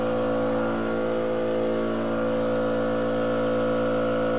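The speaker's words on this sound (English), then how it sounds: "Loud compressor." A loud air compressor runs on a stucco job site, giving a steady, unbroken mechanical drone with a buzzing hum that holds at a constant level throughout.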